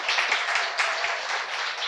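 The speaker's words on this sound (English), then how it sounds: "I think we all need to give a round of applause to Nina, who is a rock star, for putting on this event" Audience applause for an event organizer at a cleantech summit, a dense burst of many hands clapping in a room, steady and fairly loud throughout.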